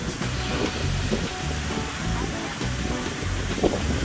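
The Casca Danta waterfall in Serra da Canastra pours heavily, a loud, steady roar of rushing water close by, mixed with wind buffeting and no talk.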